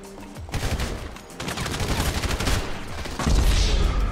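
Gunfire in the GTA V video game, a dense, sustained barrage of rapid shots that grows heavier toward the end, loud and close with no speech.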